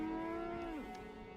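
A two-headed Brahmin cow in Fallout 76 lets out a long, close, droning moo that holds steady and then bends downward as it fades, with no talk over it.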